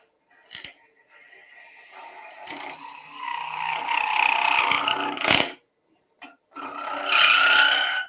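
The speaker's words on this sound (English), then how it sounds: "We're getting some squeal because that is a bit of an overhang for this tool." A spindle gouge held with a long overhang squeals against spinning wood on a woodturning lathe. Loud, close rising tonal squeals and rasping scrapes come in bursts separated by brief silences.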